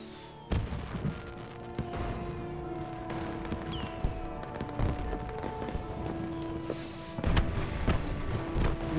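Fireworks and gunshots from the animated show Helluva Boss burst out as a dense series of booms, cracks and pops of varying loudness, layered over a steady musical background.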